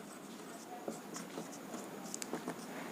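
A pen scratches out a maths problem on paper in short, close strokes with quick taps and scrapes, steady for a few seconds against a faint room hiss.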